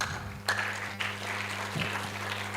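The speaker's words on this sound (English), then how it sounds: "Clap for Nikhil, please" Audience clapping for a speaker at a tech conference in Nairobi, a moderate continuous patter of hands over a low steady hum, with a couple of sharper claps standing out.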